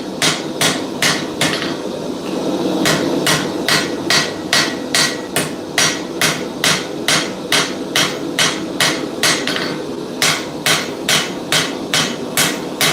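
Steady hammer blows forging the bevel of a steel blade on an anvil, sharp metallic strikes in regular runs of four to eight, clear and close, with short pauses between sets and no talking.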